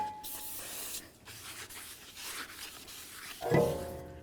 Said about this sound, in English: Now let's go ahead and clean down that brand new rotor.